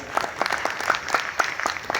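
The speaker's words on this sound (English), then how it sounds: "Please, a round of applause for him." An audience at a biotechnology conference in Abuja gives light applause for a speaker being introduced, with scattered, separate claps coming through a fairly thin, roomy sound.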